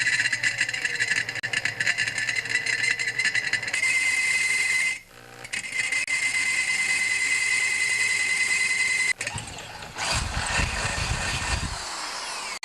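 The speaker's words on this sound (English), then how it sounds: "When you're drilling through metal like that, unless you have a drill press, start with a smaller bit, then work your way up to the bigger bit." An electric drill with a quarter-inch bit bores through metal while a redneck chainsaw bike is built. The motor whines loud and steady, drops out briefly twice, then grinds with heavier low rumbling near the end.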